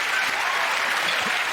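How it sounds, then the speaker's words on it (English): Studio audience applause on a TV panel comedy show, a steady, dense wash of clapping throughout, fairly close and loud with no voices standing out. "Give them all a round of applause,"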